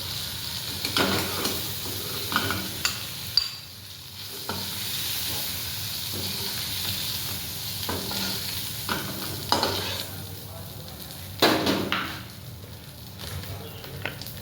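Shrimp frying in hot oil in a pan give off a steady sizzle and hiss, broken by repeated stirring scrapes and clatters, with a voice talking over the cooking.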